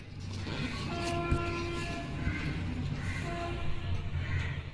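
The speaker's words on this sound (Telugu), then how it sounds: "ఇప్పుడు హార్న్ కొడతాను చూడండి" A thin electronic horn tone from a Wi-Fi phone-controlled toy car sounds twice, the second one shorter, over a constant whirring motor noise.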